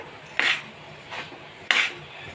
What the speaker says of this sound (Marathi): गूळ टाकल्यानंतर पुरण सारखं ढवळत राहायचं आहे आपल्याला नाही तर खाली लागून जाईल कढईला